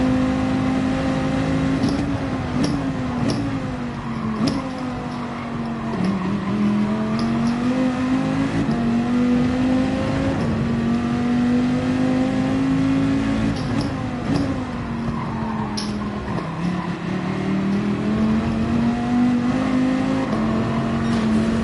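A race car engine in a racing video game drones steadily and loudly at high revs throughout, pitch dipping and climbing with gear shifts and corners.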